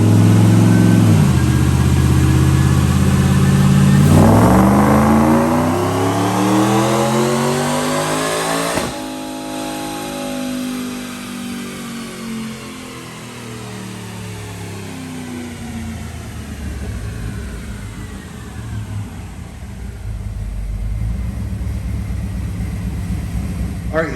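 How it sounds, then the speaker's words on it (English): A supercharged Ford Sport Trac truck engine revs hard on a dyno and climbs in pitch, then winds down and settles into a loud rumble, close and continuous. "Check out this dyno pull."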